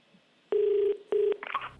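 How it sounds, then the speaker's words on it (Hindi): A telephone places a call during a televised quiz show, with two long electronic dialing tones in a row followed by a short burst of quicker tones, clean and fairly loud with no talking. "इनको फोन लगाया जाए"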